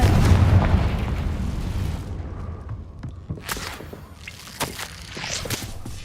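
A Confringo blasting spell explodes in a video game: a loud, deep booming blast that rumbles and fades over a couple of seconds, followed by light footsteps and scattered small pops at a moderate distance.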